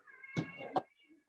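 A cat meows in the background of a family home, a faint, drawn-out cry with two rising pulses heard alone at low volume.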